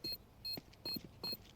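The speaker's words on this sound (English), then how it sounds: "Beep, beep, beep, beep, beep." Planted bomb beeping in Counter-Strike on the Inferno map, four short, clear electronic beeps at an even pace, fairly faint, with no talking.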